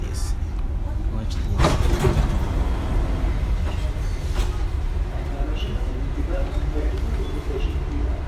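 Rumbling ride aboard a Dubai Metro train, a steady low mechanical drone with a brief louder clatter early on, while a person talks over the noise.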